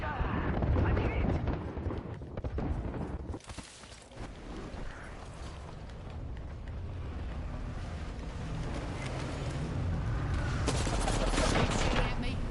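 Rapid gunfire from the video game Apex Legends rattles in dense bursts, loud and close, with game effects and a voice speaking over parts of it.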